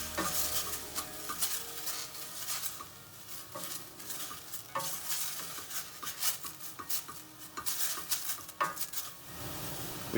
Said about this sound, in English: Back into the hot pan, here goes the boiled noodles.